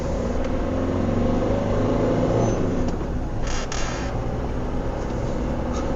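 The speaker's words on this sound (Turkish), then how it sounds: "bu sessizlik ve motorun Şıkır şıkır vites geçişleri" Steady low engine hum inside a Fiat Doblo while driving, with a brief clunk partway through as if shifting gear; quiet, no talking.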